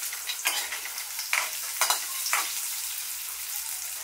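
Boiled potato pieces sautéed in a pan sizzle steadily while a spatula scrapes and stirs in several distinct strokes, close and clear with no talking.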